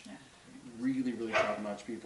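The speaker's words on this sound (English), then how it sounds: "That's our dog. He's upset because his person is not with him." A dog barks and whines in agitation at home, a few short yelps mixed with someone talking close by in a quiet room.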